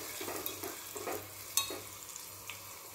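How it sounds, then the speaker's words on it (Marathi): Spices temper in hot oil for khichdi, giving a steady, close sizzle and crackle with occasional sharper pops and faint stirring, with no talking. "आता ही व्यवस्थित अशी कडक फोडणी करून घ्यायची आहे"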